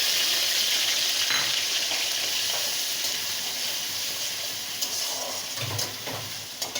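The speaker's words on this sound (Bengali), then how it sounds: "মিহি করে বেটে রাখা পেঁয়াজটা দিয়ে দেবো" Finely ground onion paste sizzles in hot oil with cardamom, cloves, cinnamon and whole cumin for a prawn and pointed gourd dolma. The frying gives a loud, steady hiss throughout, with a few soft stirring clunks.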